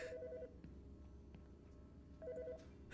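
A telephone rings inside the video game Autopsy Simulator, set in a medical examiner's office: two short bursts of electronic trilling, one at the start and one near the end, over a steady low background hum.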